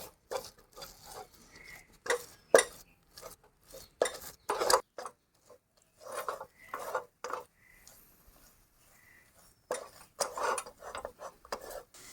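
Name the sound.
mixing ghee into milk powder mixture in a pot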